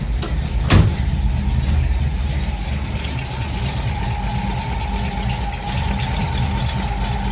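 A Ford Y-block V8 idles steadily while still cold after new silicone valve cover gaskets are fitted, a loud, even low rumble with a sharp tap near the start.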